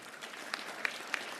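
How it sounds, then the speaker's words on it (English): An audience at a school safety awards event in Hyderabad applauds a winning school. The clapping is moderate and somewhat distant, with a few sharper individual claps standing out over a soft steady patter. "All of you should please clap."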